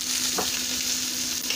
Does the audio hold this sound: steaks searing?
yes